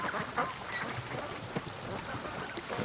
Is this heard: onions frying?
no